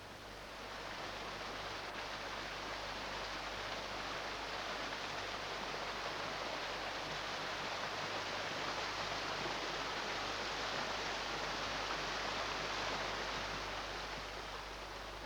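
Water tumbles down a rocky mountainside waterfall in a dense, continuous roar, steady and fairly loud throughout, with no voices over it.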